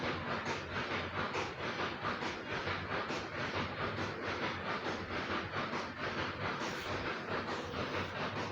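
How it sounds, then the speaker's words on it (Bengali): A train runs along the rails with a steady, rhythmic clickety-clack and a continuous rolling roar that holds at even loudness throughout, with no voices. "ঝক ঝকাঝক ট্রেন চলেছে রাত দুপুরে ওই ট্রেন চলেছে"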